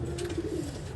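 Pigeons in a loft with young birds, cooing in a brief, continuous, low murmur close by.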